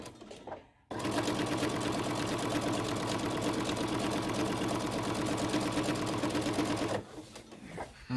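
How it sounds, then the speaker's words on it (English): Sewing machine stitching a rod pocket onto a quilt, a loud, steady mechanical whir running at a moderate, even speed for about six seconds, starting and stopping abruptly with quiet room sound on either side. "that's about as fast as I like to sew, just because I don't want it to get away from me"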